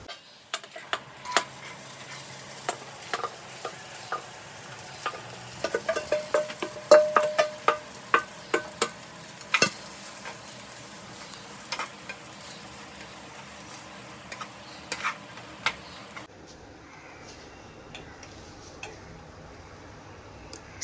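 Curry leaves are tempered in hot oil on a low flame for a Surti green corn chevdo, giving a soft sizzle with sharp crackles and pops scattered irregularly, quieting toward the end.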